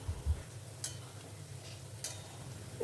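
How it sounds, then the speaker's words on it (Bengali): A spoon stirs masoor dal boiling in a pot, giving two brief scraping strokes against the metal over a low, steady bubbling rumble, close and fairly quiet. "একটু নাড়িয়ে নিচ্ছি"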